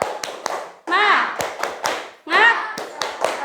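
A class of children performs a rhythmic spirit clap, with crisp, loud sets of hand claps and thumps alternating with bursts of children's voices chanting in unison.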